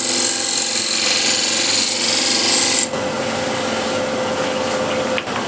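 A scraper cutting an elm wood bowl on a lathe, a loud, steady whirring and grinding that drops slightly in tone partway through and then continues.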